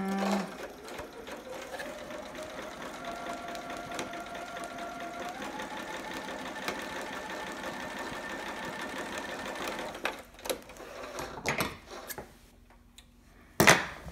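A sewing machine runs a long gathering stitch, a fast steady mechanical whir and tick that carries for about ten seconds before stopping, followed by a few handling clicks and rustles.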